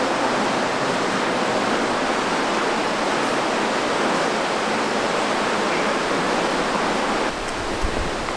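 Steady broadband rush of water pouring and flowing inside a Kentucky cave, loud and continuous without pause, close by and echoing, with no voices over it.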